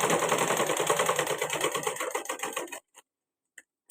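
A sewing machine stitches quarter-inch tucks into a baby balloon frock, running in a fast, steady mechanical whir for almost three seconds before stopping, followed by a few brief faint clicks.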